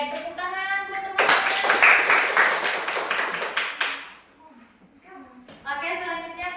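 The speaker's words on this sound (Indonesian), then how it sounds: "tepuk tangan buat teman-teman" Classmates clap for a student group in a microteaching classroom lesson, a short burst of close, dense hand clapping lasting a few seconds, framed by children's and teacher's voices talking before and after.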